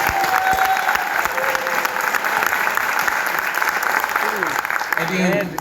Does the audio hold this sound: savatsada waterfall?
no